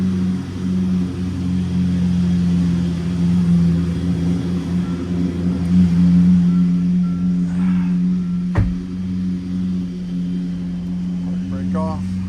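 A Ferrari F12 engine idles with a steady, loud low rumble as the car is moved, holding even throughout with one sharp knock partway and a voice speaking faintly over it.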